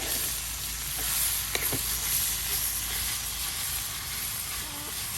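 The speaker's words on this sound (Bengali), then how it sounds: "দেখুন করলা ভাজিতে আরো তেল দেওয়া হইলো" Bitter gourd (karela) slices sizzle in hot oil in a village kitchen, a steady broadband hiss throughout with a few faint clinks from stirring.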